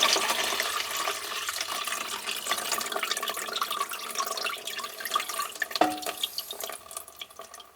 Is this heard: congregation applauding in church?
no